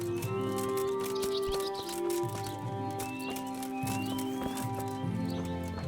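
Rhythmic horse hooves clip-clop at a steady pace in Kingdom Come: Deliverance, over tonal game background music, with an occasional soft whinny.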